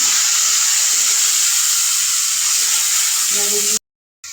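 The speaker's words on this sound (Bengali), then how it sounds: "তো কড়াইয়ে তেল দিয়েছি, তেল দিয়ে পাঁচফোড়ন আর জিরে ফোড়নে দিয়েছি, আর আলু ভাজছি।" Potatoes fry in hot oil with panch phoron, cumin and onion garlic paste in a kadai, giving a loud, close, continuous hiss and sizzle that cuts off abruptly near the end.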